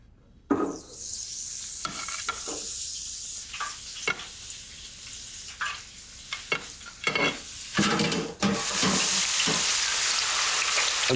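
Aubergine dropped into a deep fat fryer at 160 degrees bursts into loud, continuous bubbling sizzle, with surges and crackles as pieces go in and settle, close and alone.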